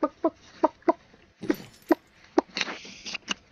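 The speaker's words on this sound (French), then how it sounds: "Je vais mettre un bruit de poule au montage, ça va être bien mieux." A chicken clucking effect plays as a run of short, punchy clucks in an uneven rhythm, with a few longer squawks toward the end, heard alone and fairly close.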